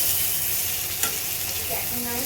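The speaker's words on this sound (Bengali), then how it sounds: "এখানে আলু বটবটি ভাজাও বসিয়ে দিয়েছি" Potato and long bean pieces fry in a pan with a steady, close sizzle and a brief stirring clatter partway through, no voices over it.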